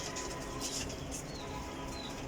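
Racing pigeons are let go from a loft, with faint cooing and soft wingbeats against a steady hiss of background noise.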